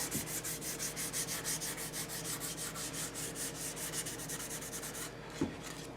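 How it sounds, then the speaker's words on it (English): Hand sanding across a wooden school desk, a steady run of rapid back-and-forth scratchy strokes close up, continuous for several seconds before pausing, with a small knock near the end. "You have to be a little bit careful when you're going around round edges and corners that you don't sand through."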